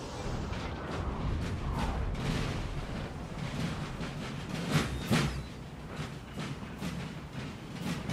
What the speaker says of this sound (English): Some 12-pounders who are firing.